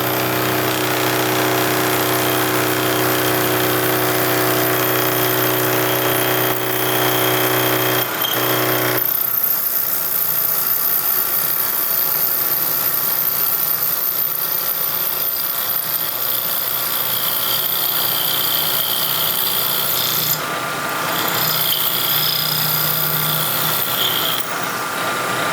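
A milling machine drones steadily as its bit bores through metal for scope rings, loud and close, the pitch and texture shifting partway through as it cuts deeper.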